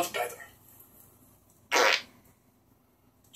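A short burst of breathy, noisy sound stands out briefly and loudly amid quiet background hum, fitting a fart, with a second shorter burst at the very end.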